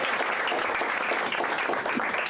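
Audience applause at a presentation on anger and poverty, a dense, even wash of many hands clapping at a steady volume throughout.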